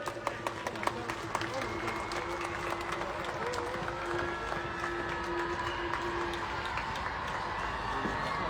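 Outdoor crowd applause at a state-level Republic Day ceremony on a parade ground as a rider on horseback passes carrying the national flag, a steady, dense patter of clapping heard from a distance, with a voice speaking over a loudspeaker.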